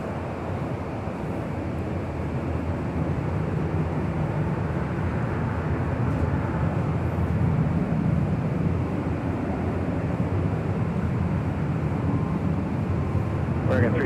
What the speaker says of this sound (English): we do have an American Dreamliner heading on down taxiway Bravo